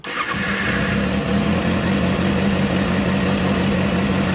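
A 2007–2008 Kawasaki ZX6R motorcycle fitted with a Two Brothers slip-on exhaust fires up and settles into a loud, steady, rumbling idle that fills the whole stretch, close by with no talking.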